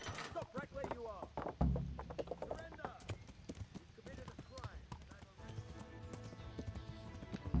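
Hooves clop in a quick galloping rhythm amid shouting voices and game-like ambience, fairly close, from the video game Kingdom Come: Deliverance.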